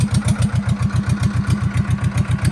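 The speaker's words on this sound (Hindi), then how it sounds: "बिल्कुल सिंपल ट्रैक्टर है, कंपनी फिटेड, कुछ नहीं करा, चक्कर का कोई छेड़छाड़ नहीं, फिर भी बहुत भगता है भाई ट्रैक्टर" A company-fitted Powertrac 425 tractor engine runs close and loud in a steady, fast thumping rhythm, a low even diesel beat with no voices over it.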